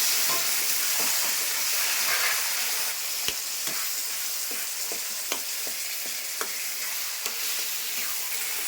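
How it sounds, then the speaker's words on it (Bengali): Taro pieces hit hot oil with browned onions, and a loud, close sizzle follows, broken by a series of sharp spatula scrapes and taps as the mixture is stirred. "আমি এই যখন কচুগুলি দিয়ে দিচ্ছি।"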